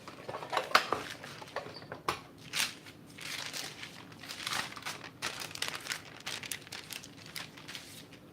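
A large tortilla goes into a big pan in a home kitchen while fish tacos are made, with crinkling, soft rustles and light clinks of cookware in quick irregular bursts nearby, no talk.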